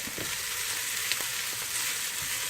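Small onions sizzle and fry in a pan, a steady close crackle with a few light pops and stirring clicks, no voices.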